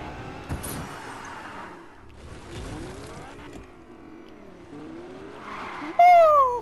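Vehicle drifting in Fortnite, engine droning through slides and turns with sweeping pitch changes, then a loud tire squeal near the end, under faint background game sounds.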